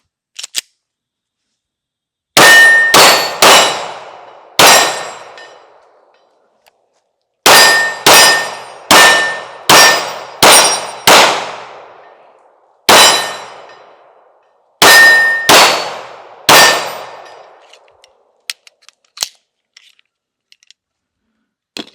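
Pistol rounds ring off small 8-inch steel circle targets in loud, bright metallic clangs, fired in quick bursts of several shots separated by pauses, each clang decaying with a short ring.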